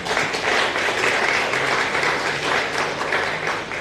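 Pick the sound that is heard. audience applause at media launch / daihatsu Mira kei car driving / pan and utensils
audience applause at media launch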